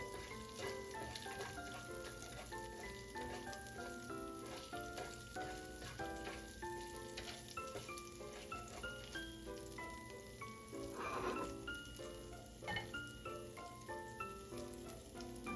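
Cumin seeds and dry red chilies frying in oil in a pan: a faint, steady sizzle with light crackles runs throughout under soft background music.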